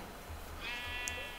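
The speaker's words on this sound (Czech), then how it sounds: "Ovce." A single sheep bleat in a video game, short and wavering, moderately close over a low background hum.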